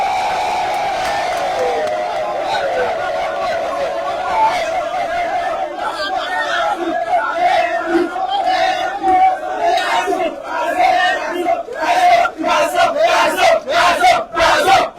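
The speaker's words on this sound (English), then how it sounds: "you can hear the crowd shouting" A large crowd shouts and yells in hailing a Liberian president at a broadcast complex inspection, sustained dense cheering and bellowing that swells into loud bursts toward the end.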